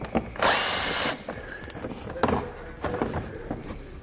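A power tool on a 2014 Ford Edge removes 5.5mm head bolts, giving one loud, steady whir of about two-thirds of a second near the start, followed by quieter handling clatter and someone talking.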